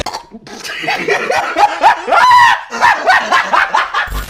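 A dog barking in rapid repeated yelps and bow-wows, loud and close, about a dozen barks in quick succession over a few seconds with no talk.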